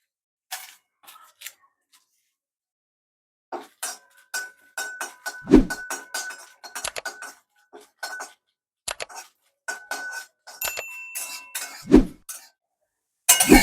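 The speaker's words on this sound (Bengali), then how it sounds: "এই কটা উপকরণ প্রথমে একটু হালকা ড্রাই রোস্ট করে নেবো" Whole pickle spices dry roasted in a pan for raw mango pickle, heard as repeated close metallic scrapes, clinks and rattles of spoon on pan in short bursts with brief pauses, with a few louder knocks.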